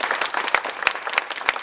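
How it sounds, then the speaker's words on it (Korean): Brief applause from a seminar audience in a lecture hall, a short burst of scattered hand claps of moderate loudness with no talking. "큰 박수 주시면 감사하겠습니다."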